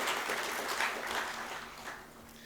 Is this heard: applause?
yes